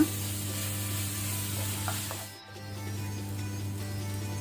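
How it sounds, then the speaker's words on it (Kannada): Ginger garlic paste fries in a pan with a steady, soft sizzle over a low background hum, briefly dipping at one point before the sizzle resumes. "ಇದನ್ನು ಸಹ ನಾವೀಗ ಒಳ್ಳೆ ರೀತಿ ಫ್ರೈ ಮಾಡಬೇಕು, ಹಸಿ ವಾಸನೆ ಹೋಗೋ ತನಕ"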